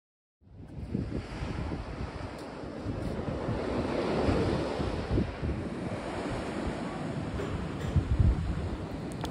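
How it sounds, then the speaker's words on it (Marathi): Ocean surf along the Great Ocean Road coast in Australia roars steadily after a quiet start, a continuous wash of breaking waves with heavy wind buffeting on the microphone and no voices. "समुद्रांच्या लाटांचा भरपूरसा आनंद घेतल्यानंतर"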